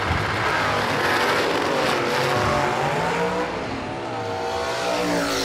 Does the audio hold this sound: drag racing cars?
yes